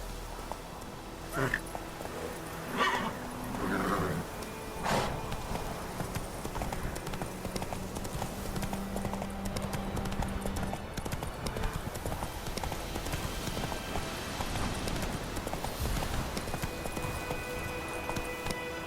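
Roach, a horse in The Witcher game, gallops with rapid rhythmic clip-clop hoofbeats throughout, loud and close, under game sound and spoken voices.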